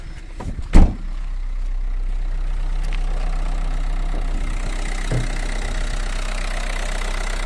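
A 2012 Renault Megane III 1.5 diesel engine idles quietly and steadily with a low, even hum, broken by a brief knock or thump near the start.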